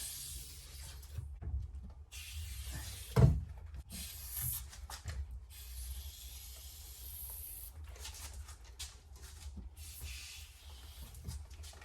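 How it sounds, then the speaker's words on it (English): Several short bursts of hissing spray from a nozzle, separated by brief pauses, close and fairly quiet. "just get my spray nozzle, start from the top"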